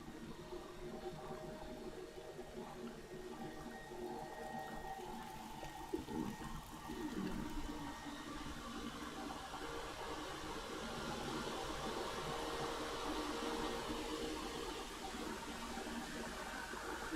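Waterfalls inside a cave in the game Dear Esther give off a steady, faint rush of water that holds evenly throughout with no pauses.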